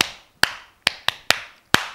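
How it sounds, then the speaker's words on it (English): Six sharp, separate claps with short irregular gaps, as children in a nursery counting lesson clap for themselves. Each is crisp and close, with no talk over them. "Clap for yourselves."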